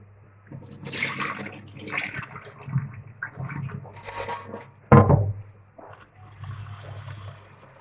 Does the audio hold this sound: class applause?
no